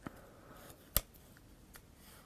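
A single sharp snip of scissors cutting paper for a card figure, close and crisp, with soft paper rustling around it in a quiet room.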